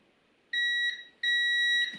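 Two clear electronic beeps from a multimeter continuity test on a motorcycle switch, each a steady, piercing tone lasting under a second, separated by a short gap.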